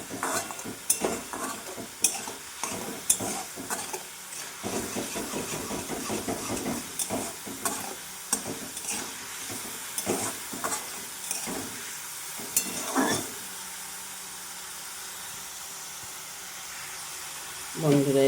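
Spice paste with ground green chili fries and is stirred in a pan, giving repeated scraping strokes over a hissing sizzle; a voice speaks intermittently, and the stirring stops near the end, leaving a softer steady frying hiss.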